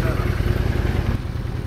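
A large Honda Hornet motorcycle idles close by, a loud steady throbbing engine rumble with a pulsing beat, while someone talks over it.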